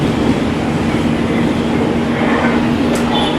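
Inside a local train running to Aomori, Japan, a steady rolling rumble carries a faint clickety-clack and a sustained low motor whine throughout.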